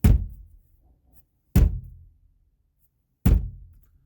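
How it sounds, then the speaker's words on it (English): Three heavy, dull thuds of a hand hitting a parked car door, evenly spaced about a second and a half apart, each with a short low resonance. "I'm going to hit the door like someone's trying to break in."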